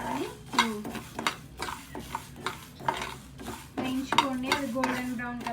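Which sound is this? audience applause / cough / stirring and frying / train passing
stirring and frying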